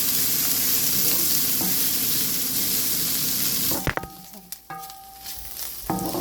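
Carrots and mixed vegetables sautéing in a pan for chilli egg noodles, loud dense sizzle for several seconds, then the frying drops away and a few metallic clinks and stirring scrapes follow.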